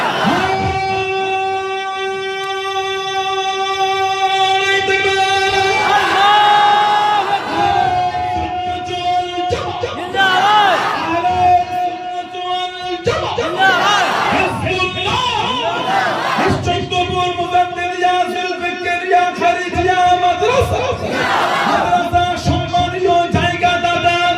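A large congregation at an outdoor Islamic religious sermon shouts takbir in loud unison, several rhythmic chanted calls rising over a sustained, droning background tone and crowd noise.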